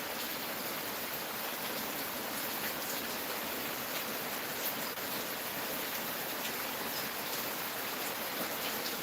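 Steady hard rain from Hurricane Melissa pours down on a homestead, a dense, unbroken hiss that stays loud and constant throughout with no voices.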